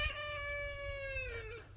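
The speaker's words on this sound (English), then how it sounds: "Please excuse any chicken noises you hear in the background." A chicken on a farm gives a single long, drawn-out harmonic call lasting over a second, moderately faint against a low background rumble.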